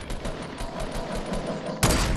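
Rapid bursts of automatic gunfire crackle during a Fortnite squads match, dense and continuous, ending in a single louder, sharper shot.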